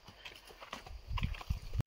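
Horse hooves clip-clop in a few uneven, close steps on a rural outing, heard alone without speech.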